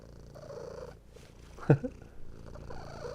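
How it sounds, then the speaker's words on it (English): A cat purring softly and close, a low rumbling with a brief louder burst partway through, over a quiet background. "Can you hear her purring?"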